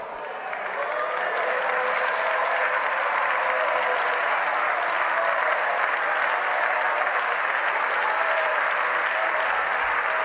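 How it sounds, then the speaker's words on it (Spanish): Members of the Socialist Party and their allies in the Spanish Congress applaud Pedro Sánchez as he enters, a sustained, dense clapping that rises quickly and holds steady throughout. "Estamos escuchando cómo el Partido Socialista y todos sus socios se levantaron a aplaudir a Pedro Sánchez en cuanto apareció por el Congreso"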